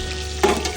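Mackerel fish fry sizzles in a pan in a hotel kitchen, with a brief stirring scrape and a quick burst of sizzle over a steady low background.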